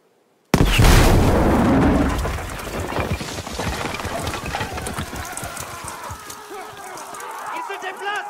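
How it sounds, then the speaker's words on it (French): A cannon fires in Battlefield V, a World War II shooter set in 1944: a sudden loud boom followed by a long rumbling, crackling tail of battle noise with voices shouting underneath. "On va utiliser ce canon!"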